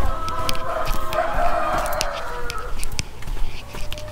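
Chickens clucking inside a coop with a concrete floor on a small farm in Rolante, a busy chorus of close, overlapping clucks and squawks that carries on throughout.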